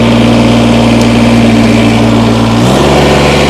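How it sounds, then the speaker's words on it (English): A 2019 Kubota BX2380 subcompact tractor engine starts and idles loudly and close by, a steady low rumble whose pitch drops and settles near the end. "I'm going to fire this tractor up"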